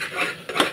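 Turmeric, garam masala and other spices for a chickpea curry are stirred in a pan, two quick scrapes of a metal utensil against the cookware, close and fairly loud, with no talking.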